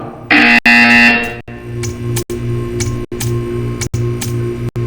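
Electronic buzzer from the video game Portal 2: a loud, harsh tone for about a second, followed by steady low mechanical humming and faint ticking.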